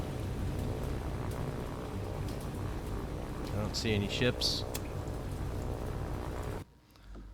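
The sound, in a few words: rain in naval video game War on the Sea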